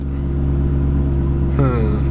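A Maserati engine rumbles deep and steady up close, then revs briefly with a rising whine toward the end.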